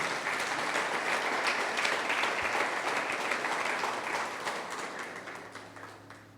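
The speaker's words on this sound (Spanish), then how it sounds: "Vamos a darle un aplauso a Dios" Church congregation applauding during a sermon, a dense sustained wash of clapping that fills the room and tapers off slightly toward the end.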